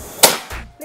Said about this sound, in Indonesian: tembakan yang ke 12, tembakan yang ke 13, tembakan yang ke 14